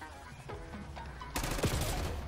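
Rapid gunfire from a gold-camo XM4 assault rifle in the Black Ops 6 video game, a quiet patch of game sounds before a loud burst of automatic shots, no talking.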